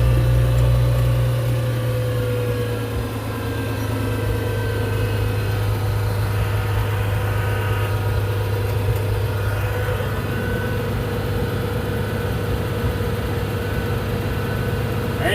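An International 756 farm tractor's diesel engine, started after sitting unused for two years, idles in a loud, steady low rumble with a constant droning hum throughout, close by and without talk.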